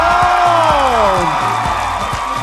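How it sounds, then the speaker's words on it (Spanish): A television talent-show studio audience cheers, whoops and claps loudly and continuously, with crowd voices shouting over sustained applause. "Un aplauso para escuchar cómo apoyan a su participante favorito."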